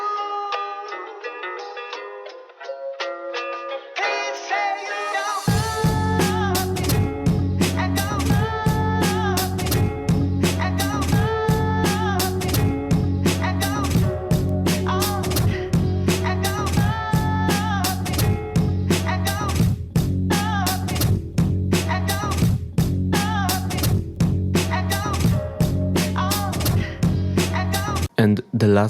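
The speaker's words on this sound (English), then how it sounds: "here's how our 3-1 method beat sounds" A hip-hop beat built from a sample chopped with the 3-1 method: a soft melodic intro, then heavy looping drums and bass kick in around five seconds and run steadily to the end, with no talking.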